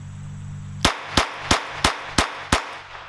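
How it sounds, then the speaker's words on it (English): RG14 revolver firing standard velocity rounds double action: six sharp, loud shots in quick succession about a third of a second apart, after a brief quiet start. "we're gonna do 6 shots of the standard velocity, kind of rapid fire, double action only"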